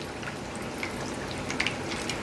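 Whitefish deep-frying in a pot of oil for a Japanese ginger dish, a steady soft sizzle and bubbling with faint crackles, close and even throughout, no talking.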